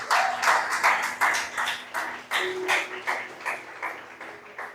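Church congregation clapping together in steady rhythmic beats, a lively, even pulse of hand claps that fills the room at moderate loudness with no voices over it.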